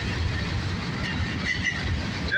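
A northbound CSX mixed freight train of tank cars and box cars rolls past close by with steady rumbling and rhythmic wheel clatter and faint squeal, no voices.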